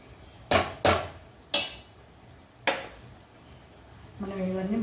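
A metal spoon knocks sharply against a pan four times, crisp isolated clinks, while bottle gourd curry with sesame powder is mixed in; a faint sizzle rises near the end.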